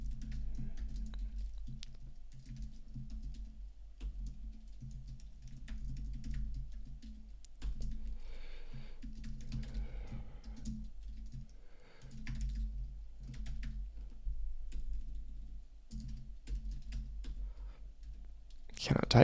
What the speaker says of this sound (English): then we're going to start typing